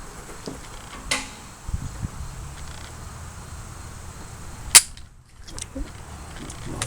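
A single sharp crack from a New Frontier AR 45 rifle firing steel-case rounds at an outdoor range, with a faint earlier pop and low background hum around it.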